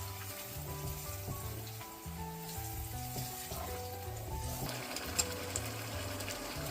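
Prepared curry paste hits a hot pan for a tom yum beef curry, crackling and sizzling softly under a steady low hum, with scattered spatters and a few sharper pops toward the end.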